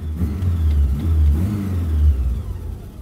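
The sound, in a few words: whining noise from an 80s hot hatch car's engine, maybe the alternator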